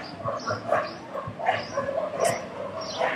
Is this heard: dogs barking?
yes